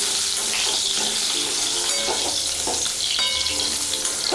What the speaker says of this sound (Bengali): একটু ভেজে নেব। পেঁপেটা বেশি ভাজার দরকার নেই, শুধু কাঁচা পেঁপেটা একটু নেড়ে নেব।